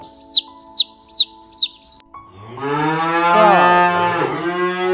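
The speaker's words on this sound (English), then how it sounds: "cow," A cow moos loudly and alone in a long, drawn-out call, preceded by a brief series of bird chirps.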